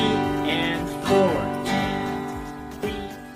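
An acoustic guitar is strummed in a beginner pattern, with ringing chords and several distinct strokes over a few seconds, mixed with faint voice-like sounds.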